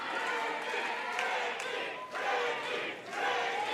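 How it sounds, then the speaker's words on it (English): A professional wrestling crowd at an Inspire Pro Wrestling match roars and shouts in surging waves, loud and dense, with brief dips between swells and voices mixed throughout. "This crowd is boiling hot and behind Ricky Starks."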